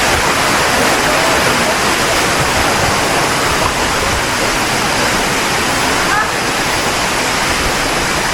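River beside a hotel in Miryang Ice Valley, a steady loud rush of flowing water filling the whole stretch without pause.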